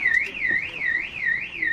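A car alarm wails in a rising and falling siren, several smooth sweeps at moderate distance, heard in the open air of a motorhome and campervan show with no talk over it.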